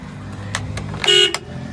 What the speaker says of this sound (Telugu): horn okay